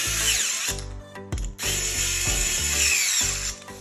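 A Milwaukee right-angle drill drives screws through ceiling fan blade brackets, giving several loud, close whirring bursts with brief pauses and ratcheting clicks between them and no talk.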